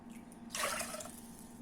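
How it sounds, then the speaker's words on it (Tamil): Water pours into a pressure cooker holding soaked rice in a home kitchen, a short splashing gush that starts abruptly midway and fades, heard close and fairly faint. "தண்ணி ஊற்றுறேன்."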